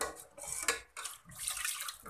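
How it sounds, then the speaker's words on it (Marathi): Gram flour and buttermilk batter is poured slowly into a pot and stirred, giving soft close wet splashes and clinks of a utensil against the vessel in a home kitchen. "बेसन पीठ व ताकाचा घोळ केलेला आहे हे हळूहळू टाकत जायचं आणि मिक्स करत जायचं."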